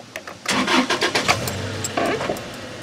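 Car engine cranking and firing up after a fresh oil change with a new filter, a close whirring starter that catches and settles into a steady low idle.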